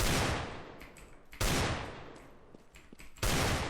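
Desert Eagle pistol shots in Counter-Strike: Global Offensive, three heavy, loud single blasts spaced over a few seconds, each ringing out and decaying, with fainter in-game noises between them.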